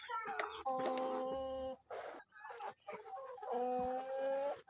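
Colombian Bahama chickens cluck and call nearby in a series of loud, drawn-out bursts separated by short pauses.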